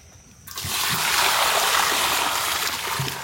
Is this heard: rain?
no